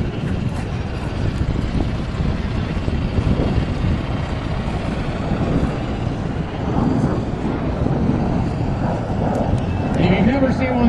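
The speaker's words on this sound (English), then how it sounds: "the V-22 Osprey in action" A V-22 Osprey tiltrotor flies at a naval aviation air show, its loud, steady, broadband rotor and engine roar filling the scene with a rumbling low end.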